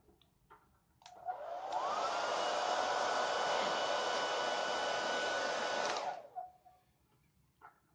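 Hairdryer switched on with a low-cut ankle-high Decathlon sports sock held over its nozzle, a loud, steady whirring roar of about five seconds that starts and stops abruptly, with faint clicks before and after.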